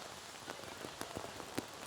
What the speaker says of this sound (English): the cold front came in and brought with it a lot of rain, a lot of moisture